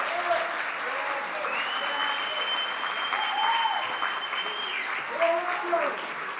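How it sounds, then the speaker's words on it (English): Audience applause at a local district candidates' debate: steady clapping from a seated crowd holds throughout, moderately loud, with some voices and whistles mixed in. "If you could let out the applause now, just let it go."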